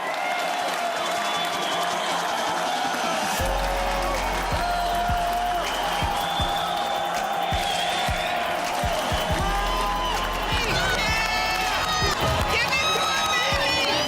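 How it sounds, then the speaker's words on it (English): A bodybuilding contest crowd roars with continuous cheering, applause and scattered whoops, loud and full, with a voice speaking over the din. "The crowd's going crazy."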